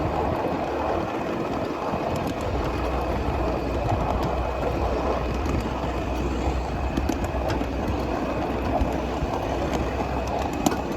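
Ride-on miniature freight train at Train Mountain rolls along the Klamath and Western track, a steady loud rumble with rhythmic wheel clatter and rail clicks throughout, close by and without talk.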